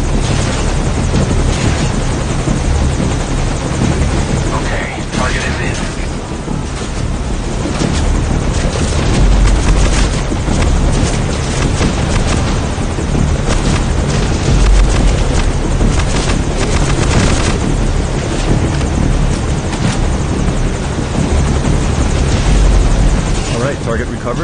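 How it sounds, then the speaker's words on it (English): A helicopter from the video game Metal Gear Solid V: Ground Zeroes roars loudly and steadily throughout, a dense, continuous rotor and engine wash with no pauses. "Target recovered, and we're on the chopper."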